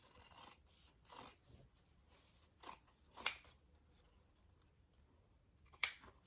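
Scissors trim excess fabric at a sewn seam in five or six separate crisp snips with short quiet pauses between them, close but soft.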